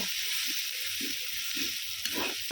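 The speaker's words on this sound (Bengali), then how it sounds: "আর দিচ্ছি হলুদ গুঁড়ো খুব ভালো করে আমি আবারও কষিয়ে নেব" Chicken masala with red chilli and turmeric powder sautéing in a pan, a steady close sizzle with regular stirring scrapes roughly every half second, no talking.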